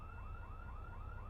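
A car alarm in the Project Zomboid survival game sounds a quick series of rising whoops, steady and somewhat distant, over a low rumbling background.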